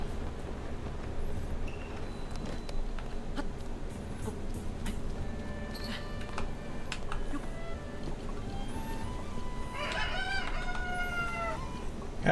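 Cuccos cluck and crow in the video game Zelda: Tears of the Kingdom, giving scattered close squawks and one drawn-out cry over a steady outdoor ambience.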